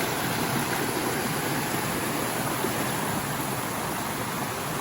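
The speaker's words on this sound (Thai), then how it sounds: "น้ำตกสวยมาก" A waterfall roars as a steady, dense rush of water that fills the whole clip, fairly loud and unbroken, with no speech.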